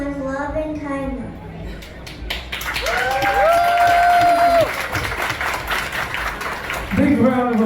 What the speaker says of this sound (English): Big round of applause for these brave young ladies on a very, very important topic.